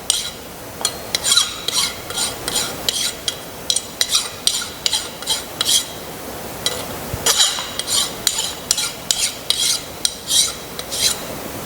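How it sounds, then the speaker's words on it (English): Hand filing to deburr a machined metal block, with repeated scraping strokes in an uneven rhythm, each rasp bright and close, and a short pause midway. "We're going to deburr our block."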